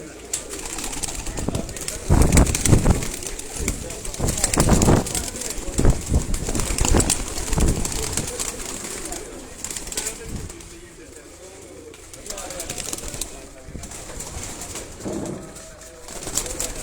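Pigeons kept by a fancier in Sialkot coo repeatedly at a moderate level amid a busy loft, with wing flaps and someone talking nearby over much of the stretch.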